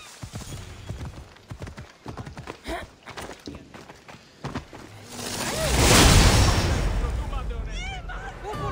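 Horse hooves clip-clop along amid game-like sound effects in Assassin's Creed Odyssey, building into a loud whooshing rumble midway, with a voice speaking in places.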